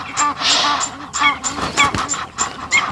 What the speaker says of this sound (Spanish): la llegada de las lluvias ha anunciado el cortejo de los gansos egipcios